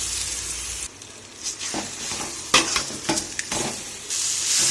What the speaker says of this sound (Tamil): இப்போ மாங்காய் தொக்கு போடலாம்.